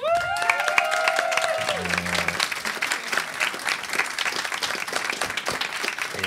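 A live comedy show audience claps and cheers steadily as a comedian guest is brought on stage, a dense, sustained wash of applause that opens under a brief sung or musical tag.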